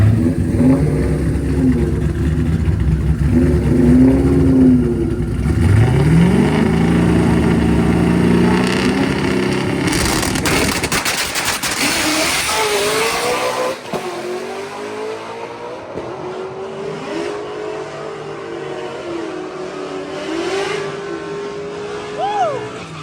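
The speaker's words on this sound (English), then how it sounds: "This should be a great race right here." Turbocharged drag race cars running a $100 bargain-bin turbo at 22 pounds of boost launch and accelerate hard down the strip, loud engine roar rising through the gears and then fading away into the distance.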